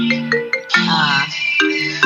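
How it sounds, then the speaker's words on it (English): A mobile phone ringtone plays loudly and close, a melodic electronic tune of repeated bright notes and chords with no talk over it. "that's my phone ringer"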